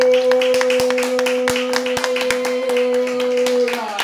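Congregation clapping in steady rhythm during a church worship service, loud and close, the even claps carrying over sustained music or singing.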